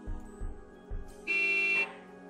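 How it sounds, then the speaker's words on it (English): Car horn honking in a video game, a long sustained blast following a few short low thumps, fairly loud with no talk. "I heard a car honking."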